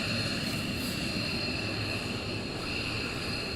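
A military jet taxis at RAF Lakenheath during a surge-operations morning launch, heading down for hot pitting: a steady, continuous engine roar with a high whine, held at an even distance throughout, with no voices.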